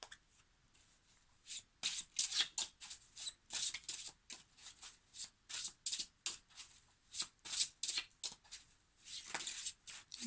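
Tarot cards are shuffled close up in quick rhythmic bursts of riffling and sliding, with short pauses between them, against a quiet background.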